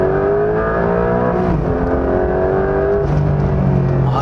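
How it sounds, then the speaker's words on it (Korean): A Porsche 911 GTS exhaust drones steadily while driving, its engine pitch sliding up and down with changes in revs, loud and close inside the moving car. "일단 배기음이"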